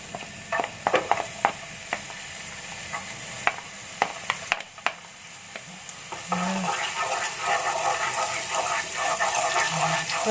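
Garlic in about two tablespoons of hot oil sizzles in a pan while a utensil scrapes and clacks against it, with sharp intermittent knocks at first and the frying growing louder and steadier in the second half.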